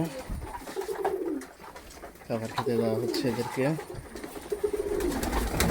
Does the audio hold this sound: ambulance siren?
no